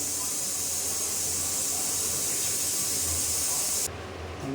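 A pressure cooker of cowpea curry hisses steadily as steam escapes after three whistles, a loud unbroken rush that drops suddenly near the end.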